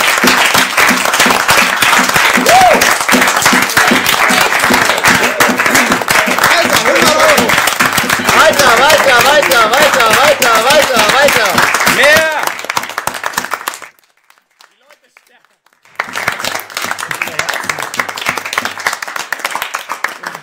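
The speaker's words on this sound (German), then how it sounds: "wir machen jetzt erstmal den fettesten Community-Applaus ever" Thunderous community applause on a live stream, dense sustained clapping and cheering that drops out completely for a couple of seconds and then resumes as loud as before.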